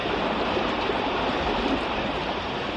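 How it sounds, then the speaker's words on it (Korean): Heavy waterfall swollen after a rainy summer, a steady dense roar of rushing water that continues without a break, loud and broadband with no voices. "이 계절이면 이렇게 폭포 경관이 장관을 이룹니다"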